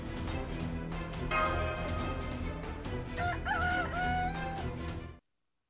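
A rooster crows in the Fate/Grand Order video game, a drawn-out cock-a-doodle-doo over dense, busy game sound and music, fairly faint in the mix, ending abruptly.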